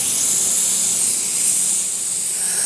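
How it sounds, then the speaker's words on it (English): A Rain Bird R-VAN rotary sprinkler nozzle sprays water in a loud, continuous close-up hiss that holds steady throughout, with no speech. "we'll show you how to set the distance the rotary nozzle sprays"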